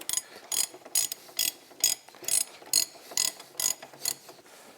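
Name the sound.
big ratchet tightening a snowmobile track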